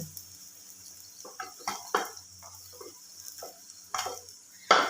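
Fried potato snacks lifted out of hot oil after the gas is switched off: scattered metal clinks and scrapes of a spoon against the pan over a faint residual sizzle, ending in a sharper clatter.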